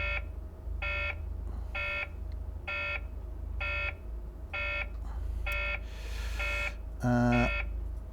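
Repeated electronic warning beeps from a bus in OMSI 2, driving in London, sounding in a regular pulse about once per second over a low engine rumble, with a different, harsher tone near the end.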